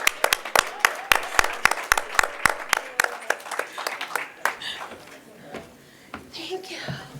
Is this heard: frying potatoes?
no